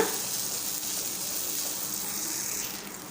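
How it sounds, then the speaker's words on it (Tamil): Stuffing sautéing in oil in a pan, a steady soft sizzle holding at an even, moderate level throughout with no voices. "ஒரு ரெண்டு நிமிஷம் மட்டும் அப்படியே இது எண்ணெயில் வதக்கிக்கலாம்"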